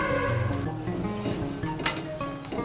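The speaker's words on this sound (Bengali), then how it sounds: "এই পাশটাকেও ভেজে নেব। দুপাশে লাল করে ভেজে নেব।" Food sizzles in hot oil in a pan as it fries until red on both sides for a vegetarian breakfast, a steady close crackle with a few brief bursts of spatter.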